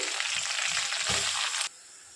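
Chopped large onions sizzle loudly in hot oil for egg masala with a steady crackling hiss that drops off abruptly near the end.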